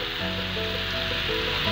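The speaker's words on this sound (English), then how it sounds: "Now add the garlic pieces to this." Garlic pieces sizzle in butter in a pan, a soft, steady hiss throughout with faint tonal background sound underneath.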